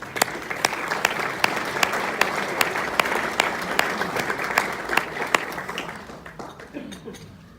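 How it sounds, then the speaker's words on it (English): A banquet crowd at the Romulus Chamber of Commerce 2018 Person of the Year event breaks into steady applause. Dense clapping fills the room and fades out near the end, with voices faint underneath. "Let's give her a round of applause as she comes."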